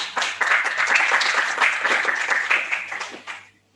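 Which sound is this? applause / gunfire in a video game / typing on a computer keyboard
applause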